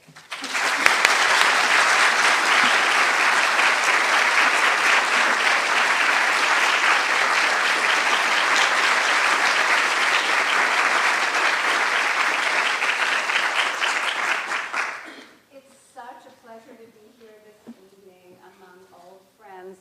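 An audience at an evening lecture applauds to welcome the speaker Carol, giving dense, loud clapping that holds for about fifteen seconds and then quickly dies away as a voice begins.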